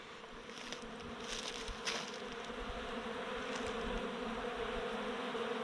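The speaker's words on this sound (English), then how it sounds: "it was bees, normal European bees" European honey bees buzzing in a swarm around water at a remote, dry bush campsite, a steady near hum with individual bees passing close by, no talk.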